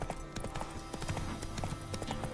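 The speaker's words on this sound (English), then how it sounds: "Why stop, horse?" A horse galloping in The Witcher 3: Wild Hunt, with quick, rhythmic hoof clops that run steadily and close by throughout, and no speech over them.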